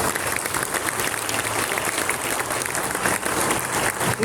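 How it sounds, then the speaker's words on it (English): A crowd at a sports day ceremony claps steadily in a dense, continuous wash of applause. It stays even and moderately loud with no voices standing out. "A round of applause for my son Sun."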